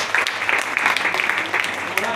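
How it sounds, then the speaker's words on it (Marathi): An audience at a company business presentation claps in a dense, sustained round while a voice carries on talking over the applause. "तुमच्यासाठी एकदा जोरदार टाळ्या वाजवा."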